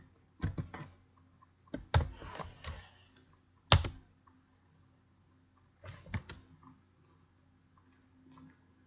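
Short bursts of clicky keystrokes on a computer keyboard, typing an amount into Roblox, close and quiet, separated by brief pauses.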